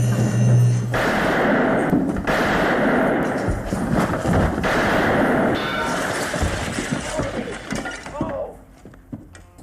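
Gunshots ring out in a western film scene: several sharp, booming cracks spaced a second or two apart, mixed with thuds and voices before the sound trails off.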